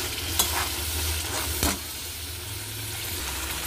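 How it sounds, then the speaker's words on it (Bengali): Ground spices (turmeric, chilli powder, cumin and coriander) stirred and sautéed in oil in a frying pan, with a steady sizzle and two sharp scrapes of the spoon against the pan. "নুনটা দিয়ে আবার খানিকটা আমি কষিয়ে নেব।"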